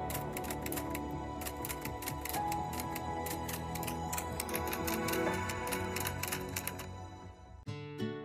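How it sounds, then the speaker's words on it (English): Typewriter keys clack in the LEGO Ideas 2021 Typewriter set (21327) teaser, rapid irregular clicks and strikes over a bed of background music, ending with a brief pause and a few final clacks. "you can hear the clicking sound effects from the keys."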